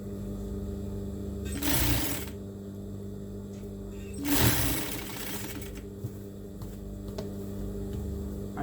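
A sewing machine stitches a table cloth, with two separate bursts of whirring stitching a few seconds apart, and a quiet steady hum in between.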